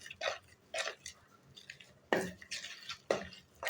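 Dough for homemade rusk being mixed in a bowl gives soft, wet slaps and scraping stirs in irregular bursts, a few sharper knocks against the bowl standing out, close and fairly quiet.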